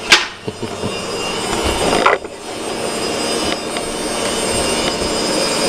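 A Dell PowerEdge 2500 server's cooling fans roar in a steady, loud broadband whoosh after boot. A few sharp clicks and knocks stand out near the start, and no one speaks.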